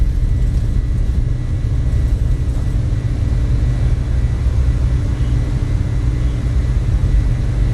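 Cargo airliner taking off in Microsoft Flight Simulator, a steady loud low engine roar and rumble holding constant throughout with no talk over it.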